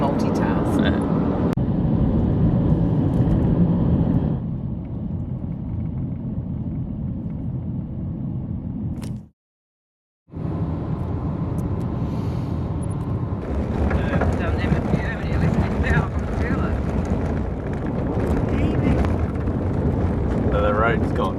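A car rolls along an outback gravel road with a steady, heavy rumble and wind buffeting the microphone, cutting out briefly before carrying on just as loud.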